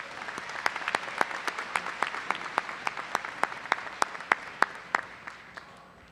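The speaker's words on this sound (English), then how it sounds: "Let's give them one more round of applause" A ceremony audience at a spring commencement claps for the Washburn Singers choir. The applause is moderate and fairly distant, with distinct claps standing out that thin and fade by the end.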